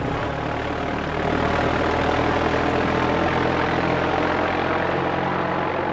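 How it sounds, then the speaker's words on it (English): A loud propeller plane drones overhead in the hunting game theHunter: Call of the Wild, a dense continuous engine roar with steady harmonic hum that swells slightly after the first second and holds throughout. "that plane's loud"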